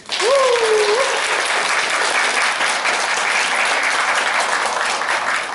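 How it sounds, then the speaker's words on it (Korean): Trainees in a concert-hall audience at an environmental festival applaud loudly and continuously, a dense wash of clapping with a brief voice cry at the start. "우리 교육생 여러분들께서는 박수를 크게 쳐주시면 되겠습니다"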